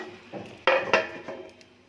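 Prawn curry with banana stem being stirred in a pan and covered, two sharp metallic clanks of utensil and lid against the pan amid softer scrapes, close and brief.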